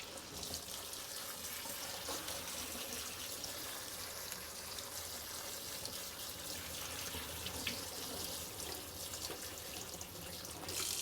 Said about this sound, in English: So you can flush it under the sink, you can flush it with the hose